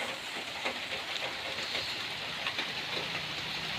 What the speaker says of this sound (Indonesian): Sudah hujan nih